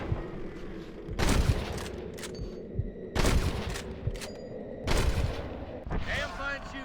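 Gunfire in Red Dead Redemption 2, with loud bursts of shots in three separate volleys over a steady background din, and more shooting trailing off at the end.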